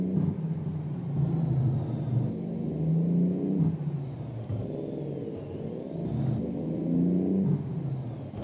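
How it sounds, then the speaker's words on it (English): A deep Cummins N14 truck engine with straight pipes in American Truck Simulator rumbles steadily, with a loud, rough exhaust note that rises and falls slightly as it revs. "the truck today is running the Cummins N14 with straight pipe sound"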